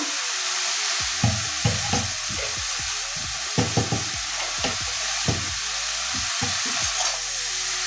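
Chopped bottle gourd sautéed with salt and spices in a pan, a bright continuous sizzle broken by repeated scraping stir strokes at an irregular rhythm, close and fairly loud.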